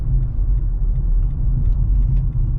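Old, worn-down car on cheap tires accelerating hard into a parking lot, a loud, close, continuous low engine rumble with a rough, rolling texture and no talk.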